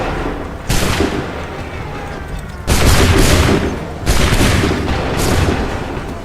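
Musket volleys in Assassin's Creed III erupt in three loud, booming bursts of massed gunfire, each a thick crackling blast that rolls off and decays before the next.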